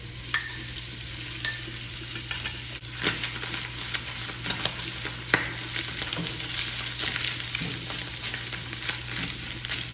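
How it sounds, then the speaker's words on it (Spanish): Tuna frying in a little oil in a pot gives a steady, moderate sizzle, with scattered sharp clicks and scrapes of stirring over a constant low hum; no one speaks. "Y colocamos también el atún."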